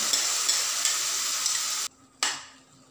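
Chopped tomatoes sizzle loudly as they are stirred into frying onions in a pan, a bright continuous crackle that cuts off abruptly, returns briefly with a burst, then fades.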